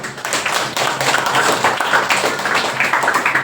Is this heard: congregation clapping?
yes